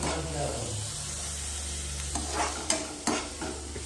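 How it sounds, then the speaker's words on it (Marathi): Finely chopped onion sizzles steadily in a pan at home, with a few louder scrapes and knocks of a spoon stirring toward the end. "इथं मी कांदा परतायला ठेवला आहे, बारीक एकदम चिरला आहे"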